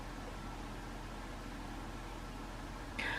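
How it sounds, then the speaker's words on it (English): Steady low hum from a house's heating pipes, a continuous broadband drone holding even and moderately loud for about three seconds, with a brief brighter hiss entering right at the end. "I think it is our heating in our house, but the pipes do make a really weird noise sometimes."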